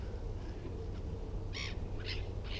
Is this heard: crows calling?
yes